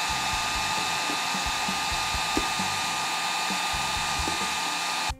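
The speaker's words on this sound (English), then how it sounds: "let's take the hairdryer to it" A hair dryer blows on a Power Rangers Lightning Collection toy package to loosen its stickers, a loud, steady whirring drone that runs close and unbroken until it clicks off at the end.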